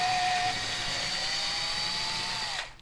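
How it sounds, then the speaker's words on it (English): A power drill whines steadily at high speed for a few seconds drilling a pilot hole, its pitch dipping slightly as it bites in, then winds down and stops. "So you do one pre-drill hole at the very top"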